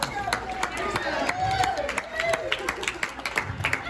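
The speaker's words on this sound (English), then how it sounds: "Give yourself a round of applause." A keynote audience gives itself a round of applause, scattered individual claps standing out sharply over a busy room murmur for a few seconds.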